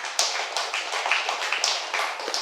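Loud applause for a meditation guru at a gathering, a dense patter of clapping hands with a few sharper claps standing out, steady for a couple of seconds.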